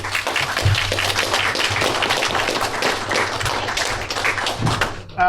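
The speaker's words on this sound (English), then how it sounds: "So let's give them all a round of applause." Audience at a 2024 county commission candidate forum giving a round of applause, dense steady clapping close by that carries on for several seconds before cutting off abruptly.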